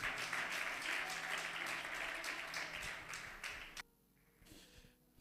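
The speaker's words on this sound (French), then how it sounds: "Est-ce qu'on peut acclamer le Seigneur?" A church congregation applauding for the Lord: a crowd of steady, rhythmic clapping for nearly four seconds that stops abruptly, leaving a few faint sounds.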